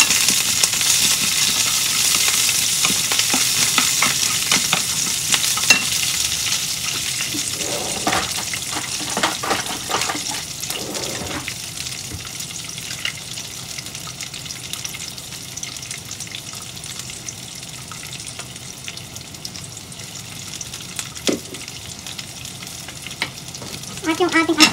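Beans and asparagus frying in a hot pan, a steady broad sizzle throughout with scrapes and clinks of stirring around the middle and later, close and fairly loud, no talking.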